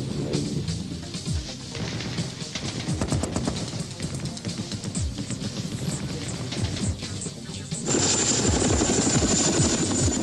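A twin-rotor Chinook helicopter thunders nearby with a rapid, pulsing rotor chop that grows louder and harsher toward the end.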